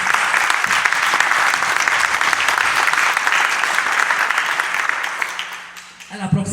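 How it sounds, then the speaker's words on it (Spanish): A church congregation claps together during a Spanish-language worship service, dense and sustained applause that fades toward the end as a voice begins speaking. "Fuerte aplauso al Señor."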